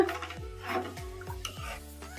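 A spoon stirs garlic rasam with rock salt in a metal pot on the stove: several short scraping, clinking strokes at a steady rhythm, close and fairly quiet, with no talking.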